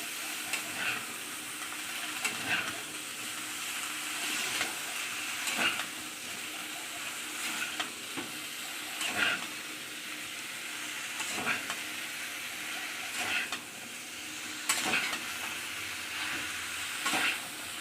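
Jackfruit and chicken curry is sautéed in a pan, with a spoon scraping and stirring every couple of seconds over a soft, continuous sizzle.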